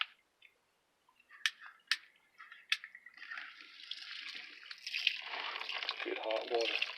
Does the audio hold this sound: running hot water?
yes